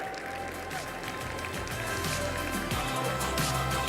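An audience at a women's leadership event applauds the Change Now team, a steady wash of clapping that swells toward the end.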